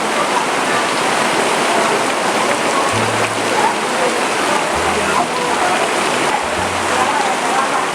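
Steady heavy rain pouring down outside a meatball soup stall, a dense continuous hiss throughout with faint low thumps beneath.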